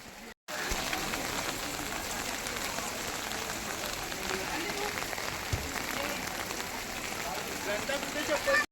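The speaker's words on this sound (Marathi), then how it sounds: "आज पाऊस खूप जोर आला आहे" Dense, steady rain hisses loudly throughout, pattering on surfaces with a constant wash of noise after a brief opening gap.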